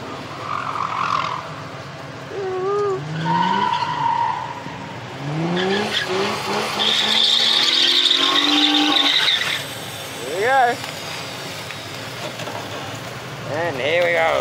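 A car is driven hard nearby, engine revving as its tires squeal and skid in repeated rising and falling bursts, with breaks of quieter crowd noise in between.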